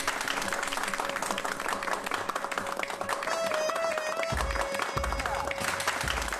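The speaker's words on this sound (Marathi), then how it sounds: "टाळ्या." An audience breaks into applause after a competition winner is announced on a Marathi TV drama set, a moderate wash of clapping that continues steadily under a faint musical tone.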